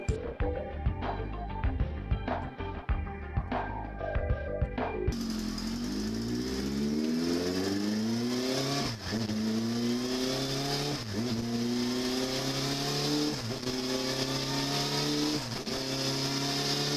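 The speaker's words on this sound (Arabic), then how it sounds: "دراجة سيزوكي هايبوزا" A Suzuki Hayabusa motorcycle engine idles in short blips, then revs hard through rising gears with a loud, sustained high-pitched scream and brief dips at each shift.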